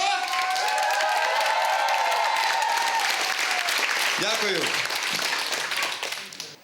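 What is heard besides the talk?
audience applause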